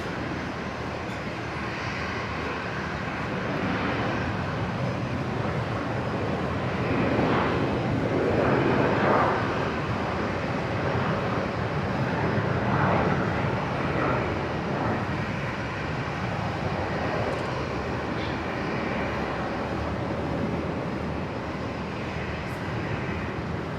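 A Singapore Airlines airliner landing at Brisbane airport, a broad continuous engine roar heard from a distance that swells gently toward the middle and then fades slightly, with no talking.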